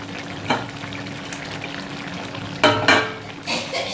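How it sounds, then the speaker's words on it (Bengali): Fish curry gravy bubbles vigorously in a pan with a steady sizzling hiss, interrupted by a few louder spattering bursts, and no voices. "ঝোলটা পুরো একদম টকবক করে ফুটছে"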